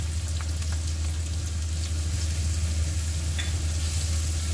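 Cumin, fresh-pounded ginger and garlic frying in a pan for a poppy seed and onion curry, a steady dense sizzle with a low hum beneath and faint scattered pops, no voices.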